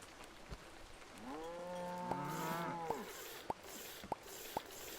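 Beef cattle in the Old Market Simulator video game give one long, harmonically rich moo lasting about two seconds, followed by a few sharp knocks against a quiet, rain-like hiss.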